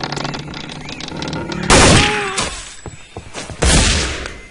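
Enemy gunfire in the video game Counter-Strike: Condition Zero comes as loud, sharp bursts of shots with booming impacts, rattling in quick clusters with brief lulls between them.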